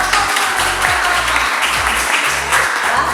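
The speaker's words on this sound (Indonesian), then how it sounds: "kita beri tepuk tangan untuk Open House Virtual" Applause for a virtual homeschool open house, a short burst of dense clapping lasting about three seconds at steady loudness with no talk over it.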